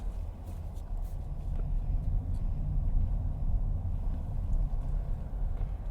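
A 2024 Audi Q8 e-tron electric SUV on 22-inch wheels makes a tight low-speed turn, heard as a steady low tire-and-road rumble with soft cabin ambience and no engine note, close and even throughout.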